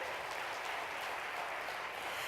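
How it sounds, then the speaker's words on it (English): Audience applause for corporate underwriters at a 2008 annual event, a dense, even roar of clapping that holds steady throughout at moderate distance. "Round of applause for our corporate underwriters."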